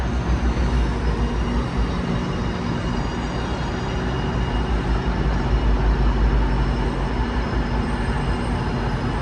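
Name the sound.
train leaving Union Station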